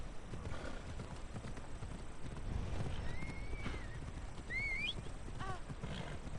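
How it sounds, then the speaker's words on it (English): Phobos the horse gallops in Assassin's Creed Odyssey with a continuous drum of hoofbeats, a few high whinnying cries on top and a faint outdoor game ambience behind. "I think the horse is always called Phobos, right?"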